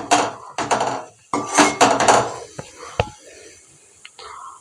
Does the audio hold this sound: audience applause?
no